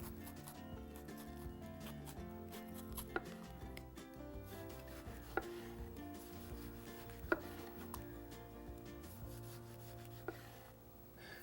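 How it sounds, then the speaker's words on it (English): A knife slices thinly through a cored heirloom tomato on a board, a few sharp, spaced cuts standing out over steady background music. "I'll core it and just really thinly slice it"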